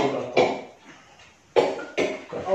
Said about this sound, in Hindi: गले में दर्द है और खांसी भी हो रही है मुझे।